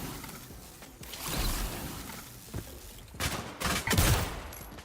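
An AZV 100 rifle fires in bursts in the shooter game Off the Grid, with rapid crackling shots in several clustered volleys over a continuous noisy battle background.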